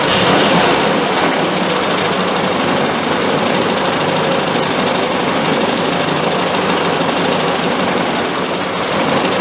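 A car engine, fitted with SU carburettors under tuning, idles loud and close with a steady, slightly uneven churning note that holds without stalling.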